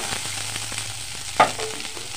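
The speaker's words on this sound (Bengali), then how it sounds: "কয়েকটা রসুন দিলাম। সবগুলো একসাথে কষে নেব।" Garlic and a ground spice paste fry in a pan with a steady, close sizzle, plus a light stirring scrape and one brief louder clatter partway through.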